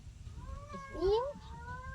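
A cat meows in a few rising, drawn-out cries over a steady low background rumble, close and clear.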